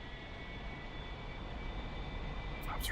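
A-4E jet taking off in DCS World, a steady, loud engine roar with a high whine running throughout as the aircraft rolls, no talk.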